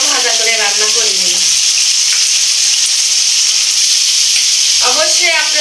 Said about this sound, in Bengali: তো পোলট্রির মাংস এই প্রথম আমি ভাজা নিচ্ছি, ভাজা করে রান্না করবো আর কি।